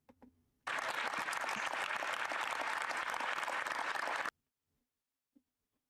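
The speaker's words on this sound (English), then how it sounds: "They're just programmed to clap at any noise that is made." A sudden burst of audience clapping starts after a brief quiet, holds dense and even for a few seconds, then cuts off sharply into near silence with one faint click afterward.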